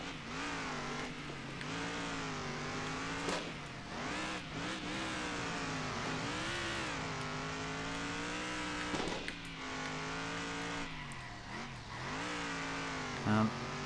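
Super Truck Cup racing truck in Circuit Superstars roars continuously, revs climbing and dropping repeatedly with gear changes and brief tire squeals, loud and close, with a voice talking faintly under the engine at times.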